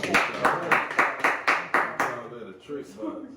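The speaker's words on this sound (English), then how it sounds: "Can we get a round of applause for him?" A few people clap for a speaker at an Independence Day gathering, about eight sharp, evenly spaced claps in a steady rhythm, then voices take over.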